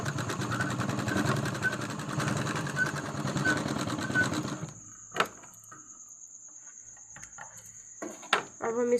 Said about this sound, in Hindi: और इस साइड भी लगा लेंगे सिलाई।